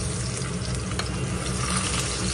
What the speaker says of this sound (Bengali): তো ওদের জন্য ভাজি করছি